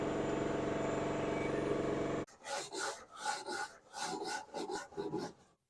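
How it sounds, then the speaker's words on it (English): Old seam sealer is scraped off the body of a 1969 Camaro in a rough series of short, rasping scrapes with small pauses between them, close and fairly loud, after a steady loud noise stops abruptly. "Now I'm try to get the loose old seam sealer off of here."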